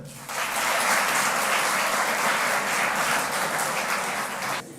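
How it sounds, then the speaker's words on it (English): Students clapping at a school address, a burst of applause that starts suddenly, holds dense and steady for several seconds, then cuts off sharply. "Clap for yourself."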